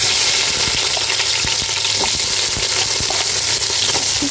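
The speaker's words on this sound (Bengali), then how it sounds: "আজকে খিচুড়ি রান্না করব, এর জন্য জিরা দিয়ে দিলাম।" Cumin seeds sizzle and crackle loudly in hot oil for khichuri, a dense close frying hiss with occasional stirring knocks and pops and no voices.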